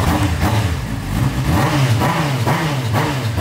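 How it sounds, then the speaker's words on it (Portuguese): A motorcycle engine revs up and down close by, its note rising and falling in a few quick surges over a steady rumble. "Gosta de ouvir o ronco da moto, né?"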